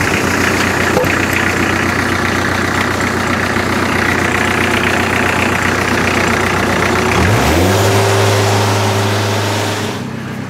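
The diesel engine of a TK 2000 portable sawmill runs loud and close with a steady rumbling idle, then revs up with a rising whine near the end before settling at a higher pitch.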